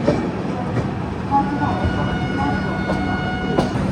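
The Raptisagar Superfast Express rolls into Jhansi station at platform 2, a steady rumble of wheels and carriages with faint clicks and an ongoing mechanical drone throughout.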